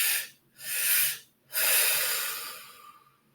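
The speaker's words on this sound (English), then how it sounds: "Let's breathe into that." Two slow, deep breaths drawn in and let out close to the ear during guided meditation, each an airy hiss that swells and fades, the second exhale trailing off long and soft.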